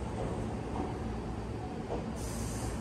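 An Iyotetsu 3000 series train, formerly run on the Keio Inokashira Line, arriving at a station with a steady broadband rumble and hiss, close and fairly loud, without talking.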